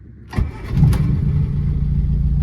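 A classic car with a mechanical fuel pump and a stainless steel Maniflow exhaust starts after weeks unused. A quick crank catches, and the engine settles into a loud, steady idle close by.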